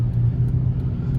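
A Hyundai Tucson with a worn wheel bearing drones on the road, a steady low hum and rumble heard from inside the cabin, with no one talking over it.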